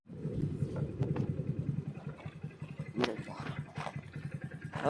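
A Hero Passion Plus motorcycle engine thumps in a rapid, even pulse on a test ride as it picks up from low speed, close and fairly loud, with a few sharp clatters over the beat.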